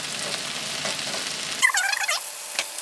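Zucchini and onion stir-fried in a hot wok for spicy jjamppong, a busy sizzle with scraping stirs that grows into a bright crackling burst partway through, close up and with no voices.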